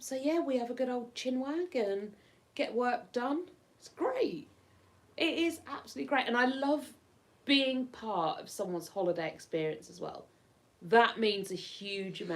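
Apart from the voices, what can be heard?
None of the usual background noises is heard.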